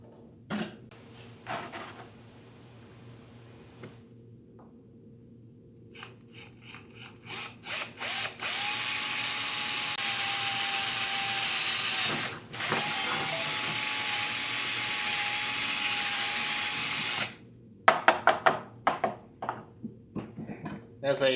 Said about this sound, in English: If you haven't drilled a lot of metal, you'll be able to tell when you're about to pop through when you hear the motor start to wear down